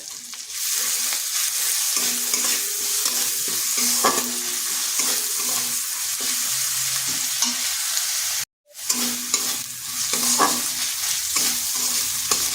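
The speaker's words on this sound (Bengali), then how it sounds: "পেঁয়াজটা নরম হয়ে এসেছে দিয়ে দিচ্ছি আদা রসুনের পেস্ট" Ginger garlic paste fries with softened onions in a pan, a continuous close sizzle with occasional stirring scrapes and a brief pause near the end.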